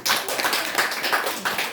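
Brief, dense burst of clapping from a church congregation, many hands beating together at close range in a steady, even roar with no voices heard.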